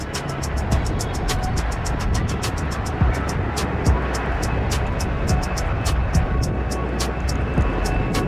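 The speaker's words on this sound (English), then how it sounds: "This Boeing 747 destroying the terrain next to the runway while taking off." A Boeing 747 taking off at an air show in Portugal, skimming low beside the runway with a loud, steady jet roar, overlaid by regular sharp ticking clicks.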